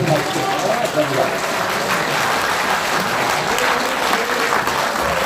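An audience applauds steadily and loudly after a speech at a press conference demanding an investigation into alleged vote-count rigging in the April 15 general election. Some voices can be heard faintly beneath the clapping.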